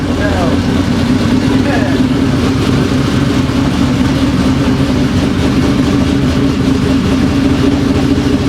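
A twin-turbo Ford F150 engine runs steadily and loudly close by, a dense continuous rumble with a constant idle-like drone throughout and no pauses.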